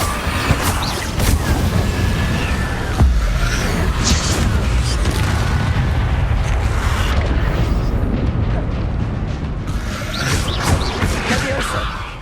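Fire spell Incendio cast in the Hogwarts Legacy video game, a dense booming, crackling burst of magical combat effects that runs continuously for about twelve seconds, loud and close amid repeated spellcasting and other game sounds.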